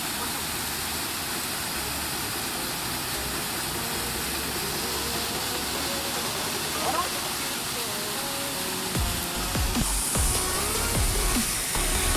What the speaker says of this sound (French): donc là on a une configuration de ruisseau assez importante, donc on peut voir une cascade